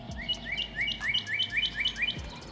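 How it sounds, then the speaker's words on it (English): Birds chirp outdoors beside a brisket smoker, giving a quick series of bright, repeated tweets at moderate distance over a low background hum, with no talking. "The birds are chirping,"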